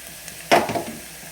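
Onions sizzling in oil in a pan while mutton curry is cooked: a sudden loud hiss bursts up as they go in, then settles into a steady, softer frying crackle, heard close with no talking.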